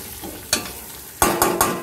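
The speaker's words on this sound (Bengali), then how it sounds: "চালটাকে একটুখানি নেড়ে চেড়ে করে নেব" Washed Gobindobhog rice is stirred as it fries in a pan: a soft sizzle runs underneath while a few sharp scraping strokes of the spoon land close by, three of them in quick succession toward the end.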